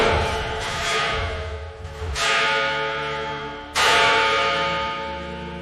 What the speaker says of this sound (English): the heavy bells of the old church rang on their own